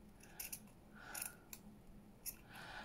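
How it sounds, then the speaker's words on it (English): Scissors snipping through fabric for a craft project, several quiet, close cuts with soft metallic clicks spread over a few seconds. "So I'll just cut that off"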